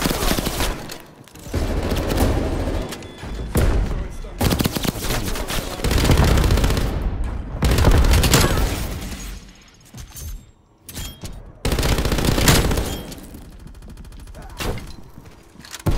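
Loud, close bursts of LMG machine-gun fire in Call of Duty: Black Ops Cold War multiplayer: several sustained rattling volleys split by short pauses, with clattering and other game noises between them.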